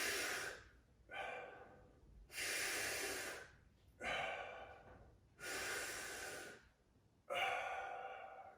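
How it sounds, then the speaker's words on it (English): Three pairs of big, loud breaths through the mouth during a fascia stretching class, each long airy inhale followed by a forceful exhale, close and evenly spaced with no talk. "3 big breaths with your mouth."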